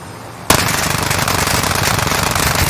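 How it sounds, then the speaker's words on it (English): Sudden sustained burst of rapid video game gunfire, loud and dense automatic shooting that starts abruptly and continues without pause. "I'm gonna shoot this one guy."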